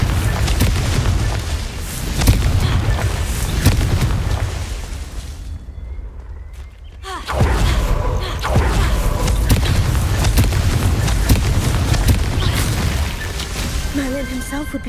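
Confringo fire spell from the video game Hogwarts Legacy goes off as a loud, close, booming blast, with rumbling explosive bursts and crackling debris that continue before and after a brief lull near the middle.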